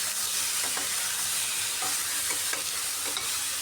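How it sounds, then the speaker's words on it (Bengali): Vegetables seasoned with red chili powder and salt frying in a pan, a steady sizzle and hiss with repeated scraping strokes of a spoon as they are stirred. "লবণটা দিয়ে এবার ভালো করে কষাতে হবে সবজিটাকে।"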